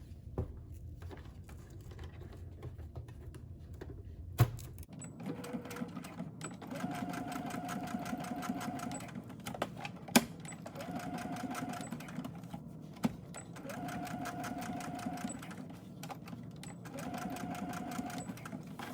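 A domestic sewing machine stitching a child's cloth face mask, running in repeated steady whirring bursts with brief pauses and occasional clicks, close and moderately loud after a quieter opening.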